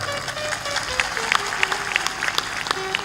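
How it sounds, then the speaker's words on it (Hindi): An audience at a spoken gathering claps in scattered, uneven bursts, moderately loud, with individual sharp claps standing out over a soft continuous tone. "जोर से ताली बजाया करो।"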